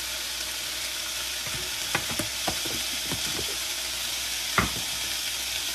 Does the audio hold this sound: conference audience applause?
no